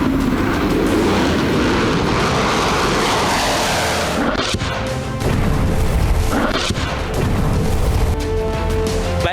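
Fighter jets roar overhead amid heavy bomb explosions and crashing impacts in a war sound effect, loud and continuous, with sharp blasts around the middle and near the end.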